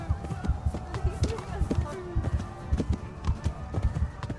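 Horse hooves clip-clop in the medieval video game Kingdom Come: Deliverance, a steady rhythmic run of hoofbeats under someone talking over the gameplay.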